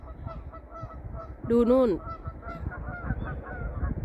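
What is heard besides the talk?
geese honking on a lawn in Sweden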